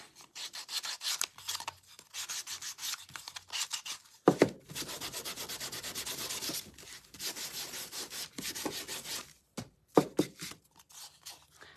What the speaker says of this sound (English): I'm actually going to sand this a bit now, and you'll see what happens